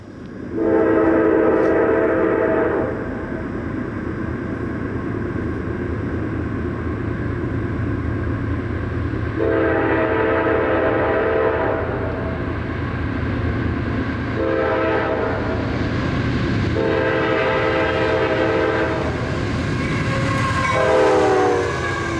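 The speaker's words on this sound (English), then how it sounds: "In Kingston, New York, 2 locomotives pull a 143-car train" A long freight train of 143 cars hauled by two locomotives rolls past in Kingston, New York, its horn sounding several loud, sustained blasts over the continuous rumble and rattle of the wagons, close and loud.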